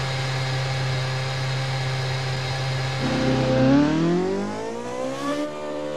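A race car in a racing video game pulls out of the pits at Brazil: a steady engine drone climbs into a rising rev as the car accelerates, loud and close.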